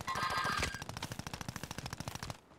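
Rapid automatic gunfire in Call of Duty Warzone on Rebirth Island, a steady burst of evenly spaced loud shots running for about two seconds, then cutting off abruptly.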